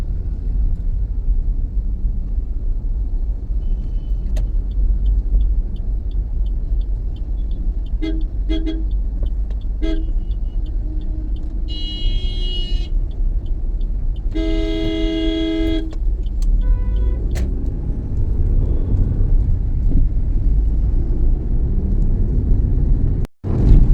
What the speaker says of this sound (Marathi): अजूनही ट्रॅफिक खूप आहे